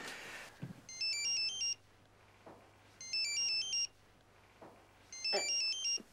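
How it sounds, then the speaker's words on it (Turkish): A mobile phone left at home rings with a repeating electronic ringtone in three evenly spaced bursts over a low background hum, with no talking. "Bir cep telefonu çalıyor."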